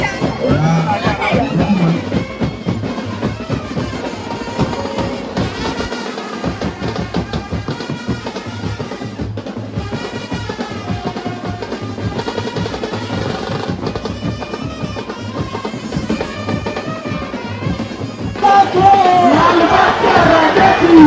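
Dense crowd roaring and chanting during a large mandal's Ganesh immersion procession in Mumbai, a continuous loud wall of voices with rhythmic shouts that surges louder near the end.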